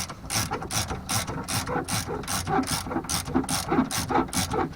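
Steady rapid clicking of a ratchet wrench tightening car sway bar bolts during a bushing upgrade, close and continuous, a dozen or so strokes at an even rhythm.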